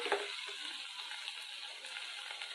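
Okra (bhindi) frying in a pan, a soft continuous hiss and sizzle, faint and steady throughout, with a single brief clink at the start.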